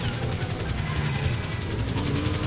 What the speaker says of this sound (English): There's literally two choppers chasing us